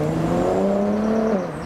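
A Honda Civic Type R pulling away from a roundabout at a business park, its engine note climbing steadily for about a second and a half before easing off, loud and fairly close, no voices.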